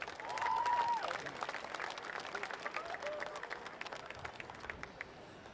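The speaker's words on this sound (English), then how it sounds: "Big round of applause." Spectators at a rugby league grand final presentation clap for the game's referee, sustained crowd applause that swells at the start and then thins, with a brief voice over it early on.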